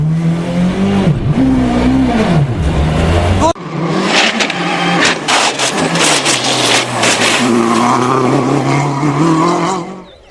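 A Peugeot 307 WRC rally car going off the road at a rally stage, its engine loud and close, revving and wavering over a steady broadband roar, with a sharp change midway, all under continuous commentary-like talk.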